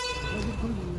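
A Volvo bus horn honks loudly and close by at a stop in Assam, a brief sustained tonal blare with a buzzy low undertone filling the whole moment.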